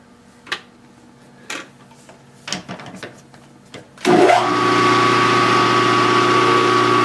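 A few scattered knocks and clatters lead into a power drill whirring up and running steadily at high speed, close and loud.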